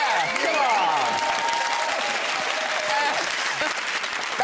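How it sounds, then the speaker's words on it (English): A small studio crew claps and cheers on a TV talk-show set as guests arrive, a lively but thin round of applause with whoops and overlapping voices. "That's real applause. That's the crew."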